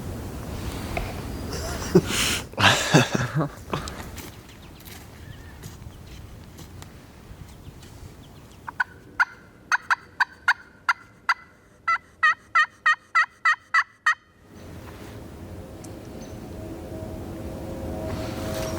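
Distant wild turkey gobbles ring out early, then a rapid series of sharp clicking or clucking pulses, with outdoor ambience throughout.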